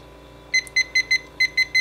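A temperature alarm on an oven thermometer beeping at 255 degrees while cannabis decarboxylates, giving seven short, sharp, high electronic beeps in a quick, slightly uneven rhythm, loud and close over a faint hum, with no talking.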